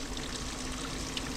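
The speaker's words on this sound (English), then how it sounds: "looks like there's water coming out of there" Water trickling and pouring steadily from the telltale outlet of an old two-stroke outboard motor on an abandoned aluminium tinny, a continuous close splashing dribble with no talk.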